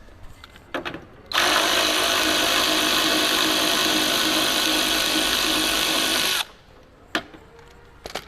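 A power tool with a 10mm socket spins out a bumper retainer screw on a Toyota Fortuner. The whir runs loud and steady for about five seconds, with a few clicks before and after.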